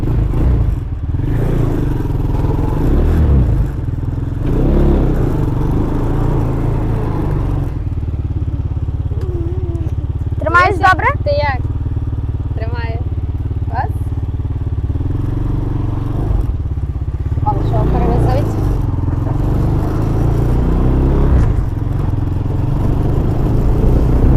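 A quad bike's engine drones and revs unevenly at close range, with rumbling idle and bursts of throttle that sag as it stalls. Voices talk over it in places.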